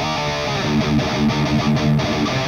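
Electric guitar played through a Two Notes Victory DynIR virtual cabinet captured with a 57 microphone, a single cab: a short, moderately driven riff of repeated chugging notes in a steady rhythm, loud and alone.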